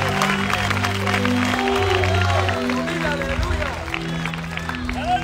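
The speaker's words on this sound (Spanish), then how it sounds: "Dele palmas a Cristo Jesús" Church congregation clapping for Christ during a pastor's sermon in Cancún, Mexico, a loud steady wash of many hands with crowd noise and cheering, mixed with voices and a low sustained musical drone.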